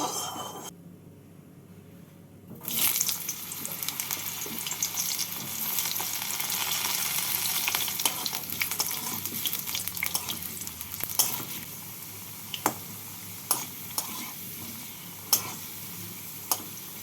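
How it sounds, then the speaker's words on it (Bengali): Potatoes fry in hot mustard oil in a pan. After a quiet start, a loud, steady sizzle begins and continues throughout, with a few sharp clicks of utensils against the pan toward the end. "তেলটাকে ভালো করে গরম করে নিয়ে প্রথমে আমি আলুগুলোকে ভেজে তুলে নেব"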